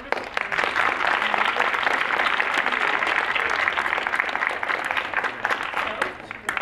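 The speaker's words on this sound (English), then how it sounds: "let's all give a round of applause to our wonderful panel" Audience applause for a youth panel at an event, a dense, steady round of clapping from a sizable crowd that holds throughout, with some voices mixed in.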